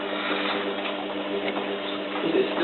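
A Zanussi FLA1002W washing machine on its first rinse gives off a steady, moderately quiet mechanical hum with soft rhythmic ticking and churning. No voices are heard.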